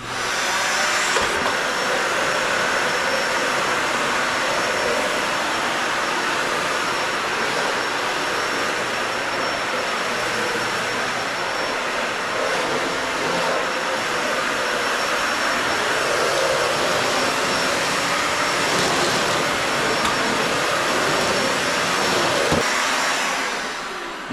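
A Dyson Ball Animal 3 upright vacuum cleaner runs steadily throughout, a loud continuous whirring roar with a high whine and no talking over it.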